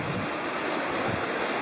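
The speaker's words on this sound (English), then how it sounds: "Beautiful creek right here." Steady broadband rush of creek water flowing nearby in Cherokee National Forest, a continuous wash with no distinct splashes and no talk.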